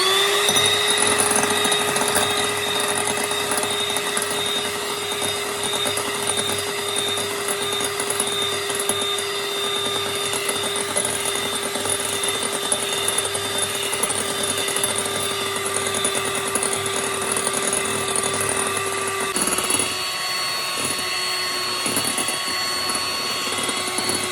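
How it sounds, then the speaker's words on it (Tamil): Electric hand beater whisking plain cake batter at home, a steady loud motor whine with a constant pitch running throughout, close up, briefly shifting tone near the end. "இப்போ இதை வந்து நல்லா சாஃப்டாக ஆகிற அளவுக்கு நம்ம பீட்டர் வச்சு நம்ம அடிச்சுக்கலாம்."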